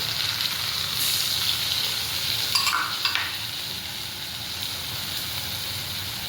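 Taro pieces and onion-garlic paste frying in hot oil, a steady close sizzle with a brief clatter of stirring partway through.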